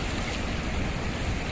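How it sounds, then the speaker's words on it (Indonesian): Fast-flowing flood water mixed with rainwater rushes near Mount Semeru, a loud, continuous, close-up roar of churning water with no break. "Aliran airnya ini sangat kencang"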